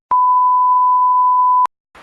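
A censor beep sound effect, one loud steady pure tone lasting about one and a half seconds that starts and stops abruptly, followed by a brief rustle.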